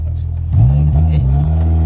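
A Honda Civic EK hatchback with a swapped K24A2 engine revs up hard from a low idle, its close, loud engine note climbing through a couple of quick gear-shift dips.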